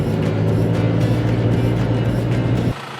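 A vehicle drives along a rough, wet track in the Victorian High Country, giving a steady, loud engine drone with road rumble up close. The noise drops off suddenly near the end.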